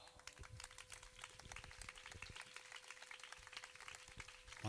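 A church gospel gathering crowd in Palakollu claps steadily in welcome as a speaker comes to the stage, a dense sustained patter of many hands filling the hall.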